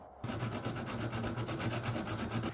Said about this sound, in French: Je vais fignoler à la lime à main.